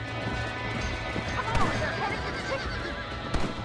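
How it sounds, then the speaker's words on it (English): A horse in the Red Dead Redemption video game whinnies and neighs while its hooves clop steadily, close and moderately loud, with game voices faintly underneath. "Oh crap, I can't get my horse to speed up."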